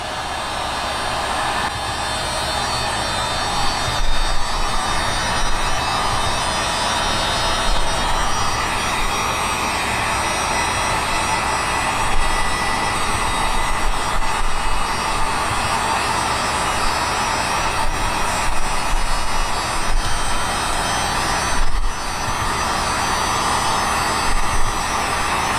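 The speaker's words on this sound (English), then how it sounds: "You get your handy heat gun." A handheld heat gun blowing hot air, a loud steady fan-and-airflow roar running continuously with small fluctuations and brief dips, no talking.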